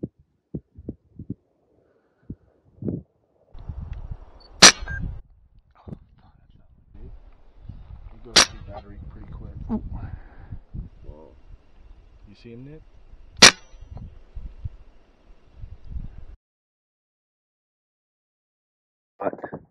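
Marauder air pistol fired at ground squirrels on a hunt: three sharp, loud cracks spread across the clip, with talk and rustling between shots.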